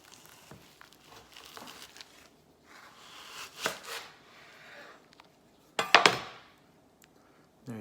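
A knife cuts through a chilled tenderloin steak, giving soft scraping and slicing strokes with a few sharper clicks and a louder burst near the end, heard up close with no talking.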